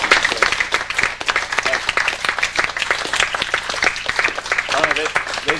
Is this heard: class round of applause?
yes